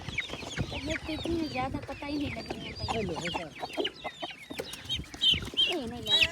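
Chickens cluck and squawk busily at close range, overlapping in a steady jumble, with people talking nearby.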